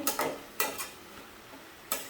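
Spinach being stirred in a pan with a spoon or spatula: a few short scraping, clattering strokes with gaps between them, fairly close and soft.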